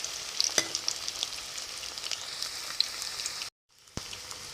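Bora fritters fry in oil over a lowered gas flame, a soft steady sizzle and crackle with scattered pops, close and fairly quiet, briefly cut to silence near the end before resuming.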